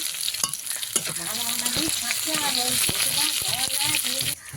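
Chopped onion, garlic and green chilli sizzling and being stirred in a pan, a close frying hiss with scraping stir strokes, while a voice chatters and sings underneath.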